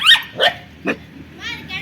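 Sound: puppy barking and whimpering

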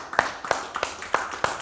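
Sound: church congregation hand clapping

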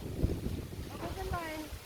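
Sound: strong wind blowing outdoors

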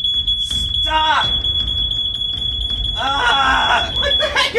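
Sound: smoke detector alarm beeping

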